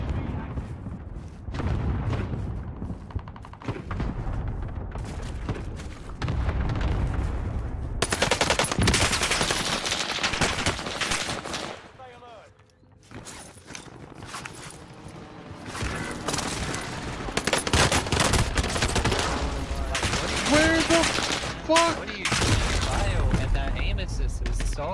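Rapid video-game gunfire on Rebirth Island, bursts of automatic fire and explosive booms layered thickly and loudly over continuous voices talking throughout.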